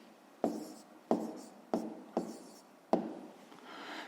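A pen writing on paper while working a 5th-grade math exercise, five quick separate scratchy strokes close up with short pauses between, then a softer rubbing sound at the end.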